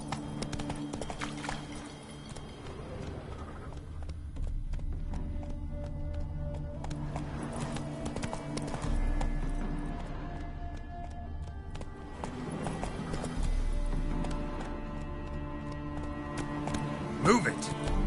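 Hooves of Roach, a horse in The Witcher 3, clip-clopping at a run in a steady galloping rhythm, moderately close, under intermittent talk and background music.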